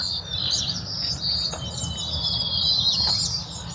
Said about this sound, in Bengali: আর এখানে দেখি প্রচুর পরিমাণে শালিক এবং নানা রকম পাখির ডাক